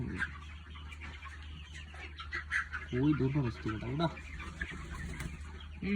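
Chickens clucking in a poultry shed, a busy close chorus of clucks and squawks with a couple of louder calls, while people talk over them.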